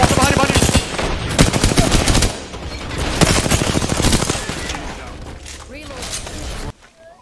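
Dense, loud automatic gunfire in an Apex Legends fight, overlapping rapid bursts from several weapons that thin out toward the end, with a voice talking over the shooting.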